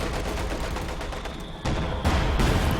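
Gunfire rattling through a house during a Company of Heroes 2 match, a dense, continuous burst that gets louder and heavier toward the end, with no voices over it.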